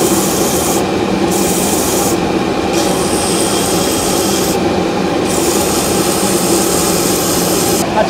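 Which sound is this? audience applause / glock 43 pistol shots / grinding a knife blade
grinding a knife blade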